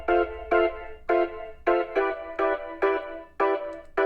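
A synth guitar preset in FL Studio plays short chopped chord stabs in a steady syncopated rhythm, bright and punchy, each hit cutting off quickly.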